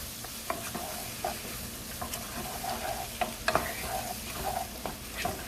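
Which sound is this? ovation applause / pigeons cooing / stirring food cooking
stirring food cooking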